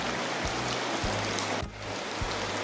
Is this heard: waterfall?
yes